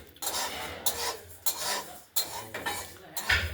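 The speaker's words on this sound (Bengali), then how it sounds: "এই ডালটা আমরা কড়াইতে নেড়ে নিচ্ছি ঠিকই" Mung dal is stirred in a kadai, giving a series of close, rasping scrapes with light metallic clinks at a steady, unhurried rhythm and no speech.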